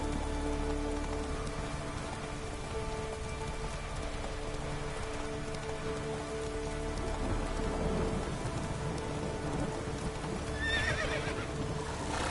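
Roach, the horse in the video game Witcher 3, gives a clear neigh near the end over a constant wash of heavy rain, with faint hoof clops in the background.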